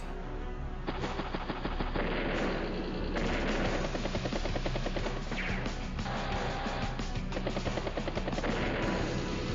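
Tank cannon fire and battle effects from the strategy game Advance Wars: Days of Ruin, a dense, continuous stretch of rapid explosive shots and crashes, loud and steady throughout with no talking.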